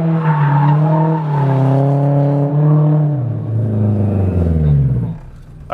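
A car spinning drift donuts, with a loud, sustained engine roar and tire squeal holding steady and then dropping in pitch near the end, close by and without talking.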